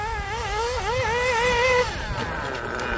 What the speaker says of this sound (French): il est bien ce moteur là. C'est ça que j'aime, la reprise, presque comme une électrique.